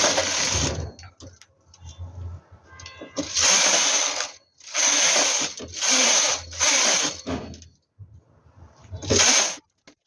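A knitting machine set to tension 7 runs the carriage across 42 needles in repeated passes, each a loud, harsh mechanical whirring rattle lasting about a second and separated by short pauses and faint clicks.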